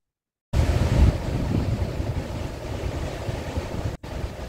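Ocean surf on the wave-rich Bathsheba coast of Barbados roars in suddenly after half a second of silence. It becomes a loud, steady rumbling wash with heavy low-end wind buffeting and a brief dropout near the end.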